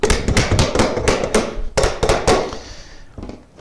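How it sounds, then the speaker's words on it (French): Repeated sharp hammer strikes on a metal barrel hoop, tightening it onto a cask, fast and irregular, loud and close, thinning out toward the end. "je peux lui donner quelques coups de marteau"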